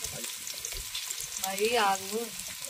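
Onion stir-fries in a pan with a brisk sizzle and stirring, while a melodic tonal voice or background music rises briefly in the middle of the short stretch.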